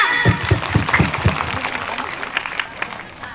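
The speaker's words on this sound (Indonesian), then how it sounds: "Beri tepuk tangannya." Audience applause at an Isra Mi'raj school commemoration at SMPN 1 Cibadak, starting with a few loud close claps and then spreading into a softer crowd clapping that fades out.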